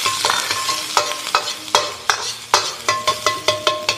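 Ginger shreds stirred and frying in hot oil in a wok, a steady sizzle broken by regular sharp scrapes of the spatula against the metal, about two strokes a second, close and with no talking.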